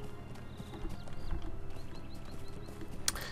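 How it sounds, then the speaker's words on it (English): Horse hooves in Lord of the Rings Online, a steady rhythmic clip-clop of a galloping mount over light ambient game sounds, with faint bird calls and a sharp tick near the end. "Let's take a horse. I'll take a horse."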